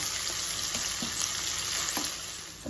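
A tempering frying in a pan for coconut tomato chutney, a dense steady sizzle with a few soft stirring scrapes, close and loud throughout.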